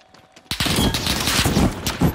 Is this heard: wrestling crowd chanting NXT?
no